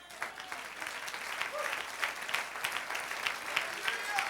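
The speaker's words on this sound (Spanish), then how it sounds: "Dale un aplauso." Church congregation applauding during a Spanish-language sermon on grace, a steady wash of many hands clapping that holds for the whole stretch, with a few voices and exclamations audible through it.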